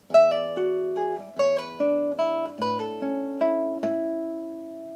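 A classical guitar plucks a short melodic phrase from Tárrega's Gran Vals, notes picked one after another at a relaxed pace, each ringing briefly, clear and close with no talking.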